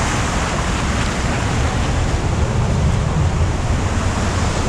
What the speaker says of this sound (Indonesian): Sepertinya ombaknya semakin lama semakin tinggi pemirsa